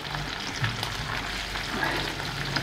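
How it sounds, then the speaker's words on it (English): An egg frying in a pan gives off a steady crackling sizzle with small pops scattered throughout, close and continuous, with no talking. "cook the egg a little bit."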